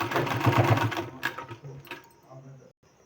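A sewing machine stitches palazzo pant fabric in a loud, steady burst for about a second and a half, then slows and fades as a voice talks over the quieter end.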